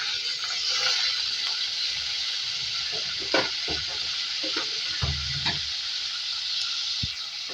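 Cut beans stirred in a frying pan of hot oil during a bhindi-and-bean sabzi, continuous sizzling hiss with scraping spatula strokes and soft thumps, close up.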